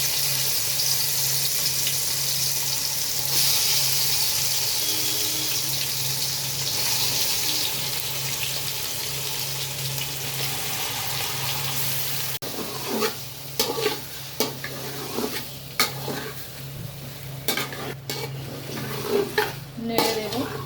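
Chicken coated in biryani masala going into hot oil in a home kitchen pot: a dense, constant sizzle at first, then uneven clattering and scraping as the pieces are stirred, with no voices.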